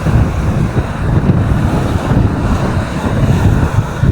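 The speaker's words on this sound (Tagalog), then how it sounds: "takot ang alon ah" Ocean waves wash and crash continuously beside a strong rush of wind buffeting the microphone, with no voices.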